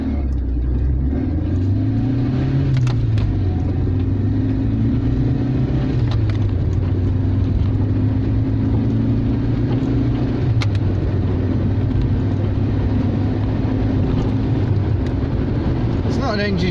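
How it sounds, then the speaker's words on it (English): A Talbot Horizon, earlier sold as a Chrysler, accelerates on a smooth road, its engine droning and rising and falling in pitch as it revs through the gears over a constant road rumble, with no voices. "Right, acceleration test on a smoother road."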